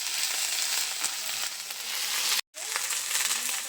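Chopped onion, crushed garlic and ginger paste frying in hot oil while being stirred, a steady dense sizzle with a brief cut in the middle.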